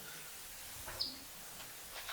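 A bird gives a single short, faint chirp midway through an otherwise quiet, hissy stretch of room tone.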